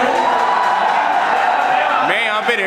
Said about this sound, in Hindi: इतनी सारी हूटिंग, इतनी सारी शाउटिंग हो रही है